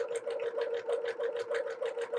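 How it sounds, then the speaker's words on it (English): A sewing machine stitches an automatic buttonhole on a coverall, a fast, steady mechanical whir with regular rapid stitch pulses, close and even throughout. "So this is the automatic buttonhole doing its work."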